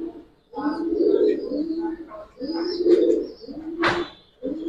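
Silver khaki Giribaz pigeons coo in repeated low throaty bursts close by, with a brief sharp chirp or flutter near the end and someone talking softly in between.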